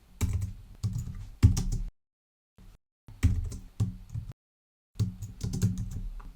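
A computer keyboard is typed on while writing VBA code, bursts of rapid close key clicks separated by short silent pauses, with no talk.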